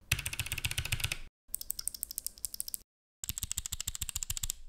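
Fast, crisp clicky keystrokes on a mechanical keyboard fitted with Box Jade switches come in three close bursts separated by brief silences, sharp and bright.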